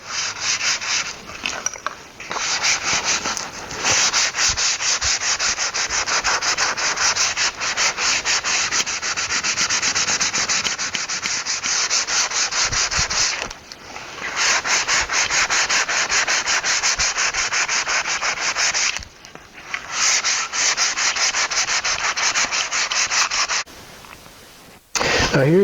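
Sandpaper rubs back and forth across a wooden Gates belt gauge, a loud, close, continuous rasping scrape with a few short pauses between runs of strokes.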